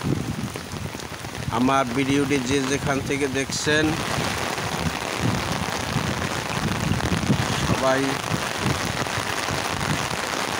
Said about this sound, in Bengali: ঢাকা মিরপুরে পল্লবী বৃষ্টিতে ভিজে গেছে।